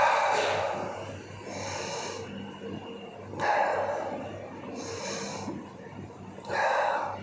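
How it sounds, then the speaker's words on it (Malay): A person breathes deeply in and out during a Year 4 science lesson: slow, airy breaths alternate in a regular rhythm, close and clear, each lasting about a second and a half, with no speech over them. "Nampak tak perbezaan ketika saya tarik nafas dan hembus nafas?"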